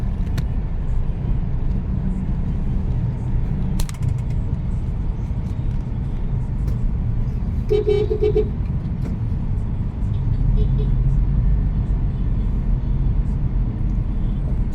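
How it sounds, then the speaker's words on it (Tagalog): Dense night highway traffic jam with a continuous low rumble of cars and engines passing close by, a brief sharp clatter midway, but no clear horn honking stands out. "sa kabila ayan ang haba-habang traffic nila dyan"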